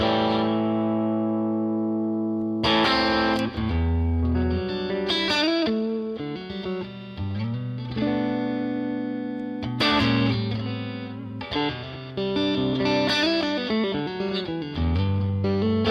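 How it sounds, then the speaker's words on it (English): Electric guitar played through a Fractal amp-modeling preset with standard reverb, sustained distorted chords and single notes ringing out in phrases, with long ambient reverb tails filling the gaps. "Okay, then I can put the standard reverb to create a huge ambient."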